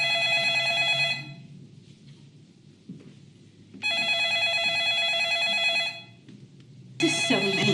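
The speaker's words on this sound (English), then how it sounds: "this is what's known as a landline phone" Landline telephone ringing in two long electronic bursts about two seconds apart, bright and close, with quiet gaps between and another ring starting at the end.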